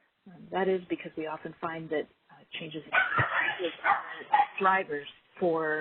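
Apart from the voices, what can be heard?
dog barking and whimpering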